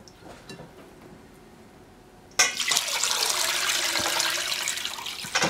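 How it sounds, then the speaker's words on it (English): Water suddenly gushes and splashes loudly into a container of rice being rinsed after a quiet start, running continuously and close by. "we'll just rinse until the water gets clear"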